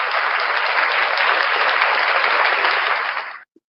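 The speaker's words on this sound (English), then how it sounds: "round of applause" An audience claps in sustained, even applause for a few seconds, then it stops abruptly.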